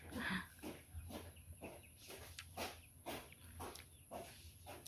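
Backyard chickens kept alongside pigs cluck in short, repeated bursts at a fairly regular pace, faint and somewhat distant, over quiet farmyard ambience with no one talking.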